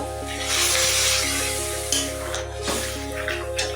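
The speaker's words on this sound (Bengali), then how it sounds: "এবারে দিয়ে দিচ্ছি ফুটিয়ে রাখা জল" Boiled water poured into a sizzling potato and pea curry gives a loud, steady hiss and spray that swells early and then eases, with a constant low hum running underneath.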